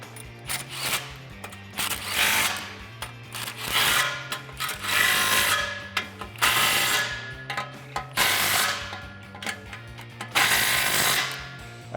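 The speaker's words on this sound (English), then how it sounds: "grab your 15 socket and tighten down the clamps" A 15 mm socket on a ratchet tightening exhaust clamps over factory header pipes for a Borla Stinger S-Type system on a 2018-2020 car, with repeated bursts of close ratchet clicking separated by short pauses.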